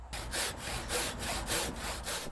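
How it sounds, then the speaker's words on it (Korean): A traditional master carpenter hand-saws timber with a steady back-and-forth rhythm, about a dozen rasping strokes in quick succession, close and clear with no talking. "직접 톱질을 하는 보유자"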